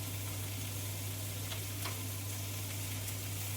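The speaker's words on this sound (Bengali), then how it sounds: "এবার তার মধ্যে অল্প নুন হলুদ দিয়ে আমি ভালো করে বেশ কষে নেব তরকারিগুলোকে।" Vegetables for a Bengali shukto fry with salt and turmeric in a pan, giving a steady close sizzle with a few soft stirring scrapes, and no talking.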